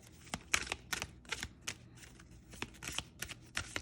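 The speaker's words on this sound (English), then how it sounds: "Simple shuffle." Soft rapid riffling and tapping of oracle cards being shuffled, irregular bursts close by with no talking.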